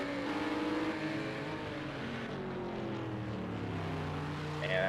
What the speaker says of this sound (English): Yeah, that sounds like an Aston there.